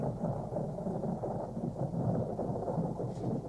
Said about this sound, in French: l'orage va bientôt éclater